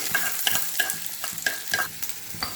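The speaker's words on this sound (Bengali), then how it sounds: "কড়াইতে তেল গরম করে তার মধ্যে দিয়ে দিলাম কুচিয়ে রাখা পেঁয়াজ" Chopped onions fry in hot oil in a wok, sizzling continuously at close range while a utensil scrapes and stirs in a regular rhythm of repeated strokes, with no talking.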